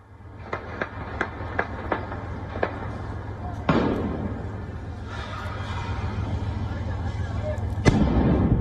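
Sharp gunshots crack repeatedly in the distance during army and paramilitary clashes in Khartoum, Sudan, followed by a heavy blast and a rumbling, noisy aftermath.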